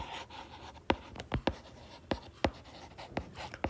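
Pen or pencil writing on paper while working a class nine math exercise on set elements, with sharp scratchy strokes and taps in an uneven rhythm, close and moderately quiet with no talking.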